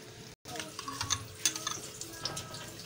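Garlic ginger paste sizzles in about a cup of hot oil in a pan for chicken karahi, a steady close frying hiss with small crackles and pops throughout.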